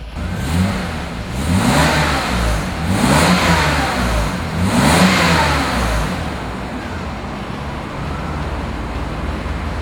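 A 1991 BMW 850i V12 engine revs up and down in repeated loud surges, roaring close by, then drops back to a steady idle.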